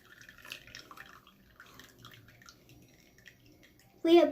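Water trickles and drips as it is poured a little at a time over coffee grounds to brew coffee by hand without a coffee maker. Soft, steady pouring sounds under quiet voices, with a louder splash at the end.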